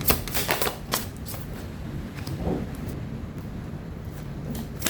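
Tarot cards are drawn and handled from a deck, giving soft papery rustles and a few sharp flicks, mostly at the start, over a quiet background.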